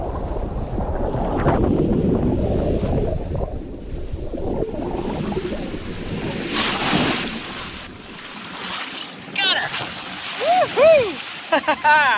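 Ocean waves break on a remote beach shore, a rushing, washing surf mixed with heavy wind buffeting the microphone. Voices come through near the end.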